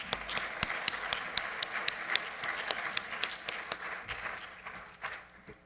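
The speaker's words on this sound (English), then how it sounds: "Let's give them one more round of applause." An audience at an economics colloquium gives a round of applause, a crisp rhythmic patter of many hands with distinct individual claps standing out, tapering off toward the end.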